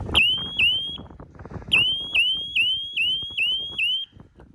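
Dock lifeguard electricity detector alarm at a lake dock, sounding a series of sharp, high electronic chirps in a steady repeating rhythm, loud and close with faint background noise.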